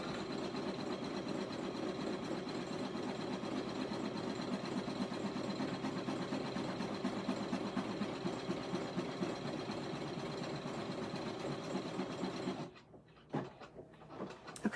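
An embroidery machine sews bottom satin stitching on an appliqué sports ball bag tag, a steady rapid mechanical whirring hum running nonstop for about twelve seconds before stopping abruptly into quiet clicks.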